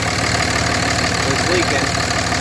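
A Cummins diesel truck engine runs at a steady, loud idle with a constant rough rumble and knocking texture throughout, with people talking faintly over it.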